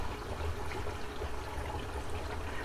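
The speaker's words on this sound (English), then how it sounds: "Some sponges for the water to run through, like I'm doing here with this porridge sponge" Water trickling through a sponge filter in an aquarium, a steady, soft, hissing flow with a low burble, constant and unbroken.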